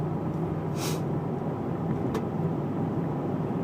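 Steady road noise from inside a car on the move, a low continuous rumble with a brief hiss and a faint click, no talk.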